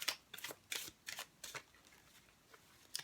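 Tarot Apocalypsis cards being shuffled by hand, a series of short crisp riffling bursts spaced irregularly, close and fairly quiet, with no talk.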